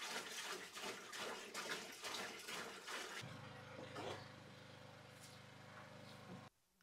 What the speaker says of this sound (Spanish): yo me encargo de preparar el fregadero. Lo lleno con agua potable